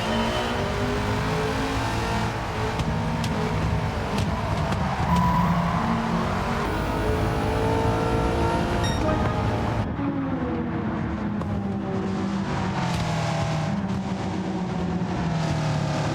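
A car in the Gran Turismo racing game drives under a sustained, loud engine drone that climbs and shifts pitch through gear changes across the whole stretch, with no talking.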